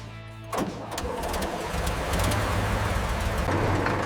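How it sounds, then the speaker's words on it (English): The massive original engine of a restored wartime DUKW amphibious truck fires up after a brief quiet lead-in, then settles into a loud, steady, rumbling idle close by. "the massive original engine of the DUKW roars back to life"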